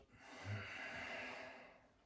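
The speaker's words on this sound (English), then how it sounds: "Breathing out to midline." Slow, steady exhalation through a half-pinched nose, a soft, breathy rush of air lasting about two seconds, close and quiet with no talking.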